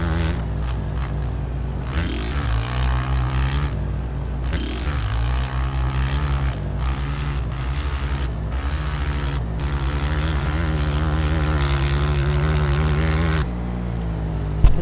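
Simulated Honda Titan 160 motorcycle engine in the game MX Bikes, a loud continuous buzzing drone that revs up and down repeatedly with brief throttle dips, steady and close throughout with no talking.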